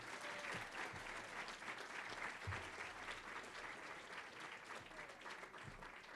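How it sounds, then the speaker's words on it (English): Audience applause for award recipients at a chamber of commerce awards evening: a sustained, even round of clapping from a crowd, heard fairly faint and distant throughout. "can we have one final round of applause for all of our recipients this evening?"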